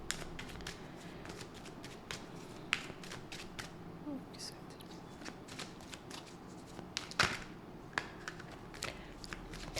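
Tarot cards being shuffled by hand, soft repeated riffles and flicks close by, faint and quiet with light background noise.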